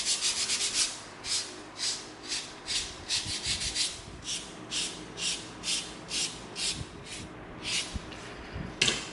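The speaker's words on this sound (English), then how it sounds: "Now we're going to come in with our 220 sanding stick" A 220-grit sanding stick rubs over an EVA foam chainsword in a steady run of back-and-forth strokes, each a close, raspy scrape repeating at an even rhythm with no talking.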